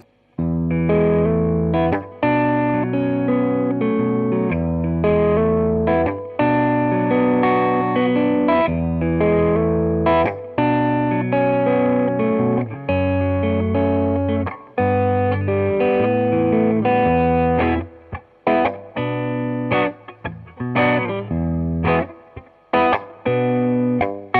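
Electric guitar through a Klon-style overdrive with a warm, mildly driven tone, playing a continuous stream of picked notes and chords, loud and close, with brief gaps between phrases.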